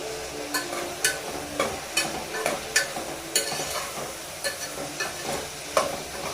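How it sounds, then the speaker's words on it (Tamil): Onions and tomatoes with chili and turmeric powder stirred in a pan for a village-style Kongu dal rice, giving a steady soft sizzle broken by regular sharp scrapes of a spoon against the vessel, close and without speech. "வெங்காயம் தக்காளி நல்லா வதங்கி வந்துட்டுருக்கு."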